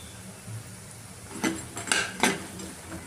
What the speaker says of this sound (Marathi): आता आपण याच्यात सोयाबीनचे चंक्स ॲड करूया